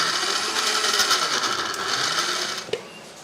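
A kitchen blender grinds cooled onions with curd into a smooth paste, a steady loud motor whir that runs continuously, ending with a brief knock near the end.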